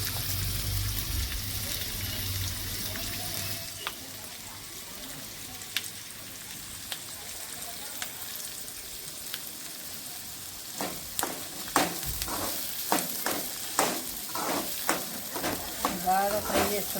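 Green chillies fry in hot oil in a pan for an egg and dried Bombay duck curry, a constant close sizzle with a string of crackles and stirring scrapes that gets busier toward the end, with no one talking.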